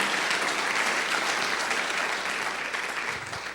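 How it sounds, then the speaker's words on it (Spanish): Church congregation applauding during a sermon on the power of the gospel, a steady dense wash of clapping throughout that tapers slightly near the end. "¿Cuántos dan un aplauso al Señor?"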